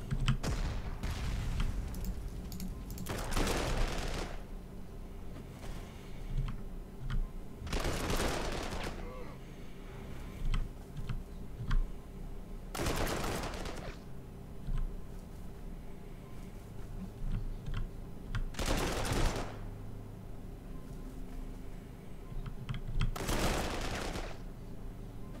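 Gunfire from the Panzer Corps 2 war game, set in the Spanish Civil War, comes as five loud bursts spaced evenly over a steady background hum.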